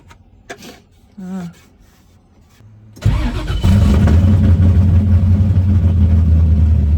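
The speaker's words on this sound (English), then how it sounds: "The car must warm up." A Corvette being prepared for a full race build starts up and settles into a loud, steady idle to warm up, with a deep rumble that holds for several seconds after some faint handling noises at the start.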